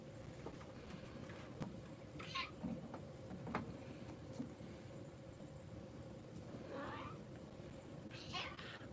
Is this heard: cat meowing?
yes